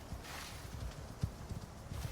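Horse hooves clip-clop in the survival game ICARUS: soft, uneven thuds over a constant ambient wash, moderately close and low in level.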